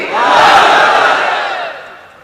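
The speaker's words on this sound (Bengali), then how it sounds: "তাকবীর পড়েন তো দেখি, আল্লাহর নামে পড়েন, লিল্লাহি তাকবীর" A large crowd at an Islamic sermon gathering shouts takbir, Allahu Akbar, together in one loud massed cry that swells quickly, holds for about a second, then fades away, with no other voice over it.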